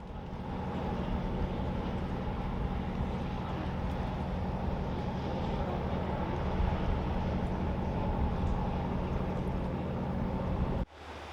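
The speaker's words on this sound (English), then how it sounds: "There was a lot of boat traffic on the lake that day, including this tour boat." A tour boat's engine on a lake drones loud and close with a steady low rumble and broad wash of noise, ending abruptly near the finish.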